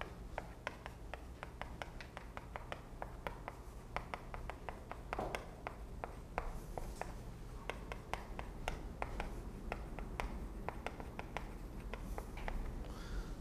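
Chalk or marker writing on a board during a Korean civil law lecture, quick tapping and scratching strokes repeating steadily throughout, faint and close with a low room hum beneath.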